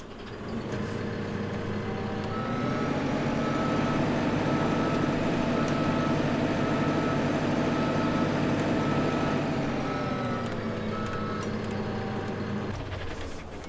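A JCB machine rumbling in Farming Simulator 2015, a loud steady engine drone that revs up, holds, and settles again, with a faint repeating tone above it and no talk.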